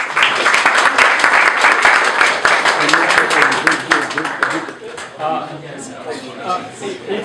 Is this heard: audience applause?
yes